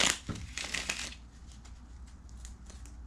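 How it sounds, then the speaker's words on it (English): A quick riffle of tarot cards being shuffled up close, followed by lighter, scattered card taps and handling. "Okay, I'll do one more shuffle."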